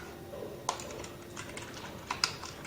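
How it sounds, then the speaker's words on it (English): Light, quiet typing on a computer keyboard, a few sparse keystrokes with a couple of sharper clicks, alone in the room. "let me go ahead and go type these rules out for you real quick"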